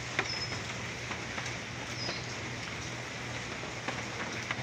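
Steady rain falling outdoors, a dense even hiss with occasional louder drops, plus a low constant hum underneath and no talking.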